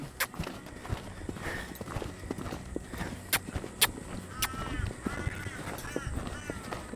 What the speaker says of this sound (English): It's going to canter a little bit more than yesterday.